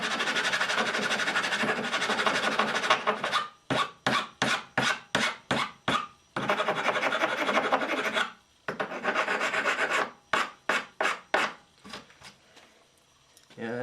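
A hand file rasps a bevel into a wooden bridge, first in long continuous strokes, then in quick rhythmic bursts with short pauses between them, close and clear.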